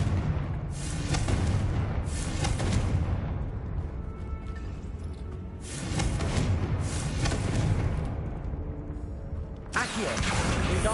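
Repeated fiery spell blasts from Confringo in Hogwarts Legacy, several loud booming bursts in clusters with rumbling tails between them, no talking.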